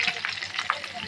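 Mustard seeds, cumin and curry leaves sizzle and crackle in hot oil, a brief dense spatter with sharp pops close by.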